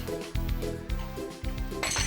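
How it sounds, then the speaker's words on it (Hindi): Dishes being washed by hand in a home kitchen, with repeated clinks and clatters of plates, pots and utensils at close range, coming in short bursts. "तो बर्तन अकेले साफ कर।"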